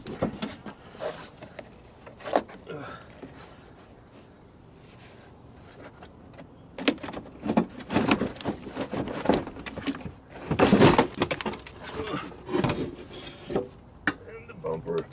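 A plastic front bumper comes off a 1995-99 Subaru Legacy with scraping, rubbing and creaking clatter that builds to a loud burst of knocks near the end, heard close up with little talk.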